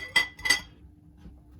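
Dishes being washed in a tiny house kitchen, including the pan used for scrambled eggs: two quick bright clinks close together, followed by quiet low rumble.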